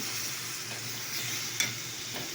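Food frying in a pan with water just poured in, a steady broadband sizzle with a brief louder burst partway through, close and continuous with no talking.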